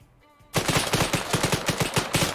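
Rapid automatic gunfire in the military shooter game Arma 3, a quiet lead-in giving way to a loud, sustained burst of evenly spaced shots with sharp repeated cracks, no voices present.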